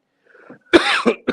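A sick man with a stuffy nose coughs several times in quick succession, close and loud, each harsh burst separated by brief pauses after a soft breathy lead-in.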